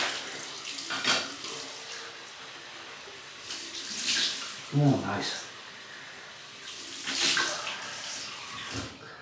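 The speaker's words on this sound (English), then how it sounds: "Cold water rinse." Cold water runs from a bathroom tap for a post-shave rinse, a fluctuating splash and hiss with several louder bursts as hands break the stream, close by, with a man's brief remark over it.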